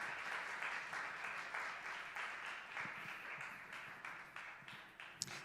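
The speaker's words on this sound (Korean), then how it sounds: "우리 좋으신 하나님께 우리 가장 큰 영광의 박수를 드리겠습니다." Church congregation applauding during a Sunday youth worship service, a steady, fairly distant wash of many hands clapping that holds evenly throughout.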